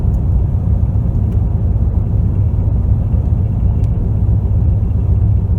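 A 2001 Ford E350 Super Duty van coasts with its windows closed. Inside the cab there is a steady, loud low rumble of road and engine noise with no voices.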